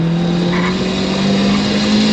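A turbocharged, shed-built Ford Fiesta ST170 with over 300 bhp accelerates hard, its engine note rising steadily through a loud, continuous drone heard from inside the car, with no talking.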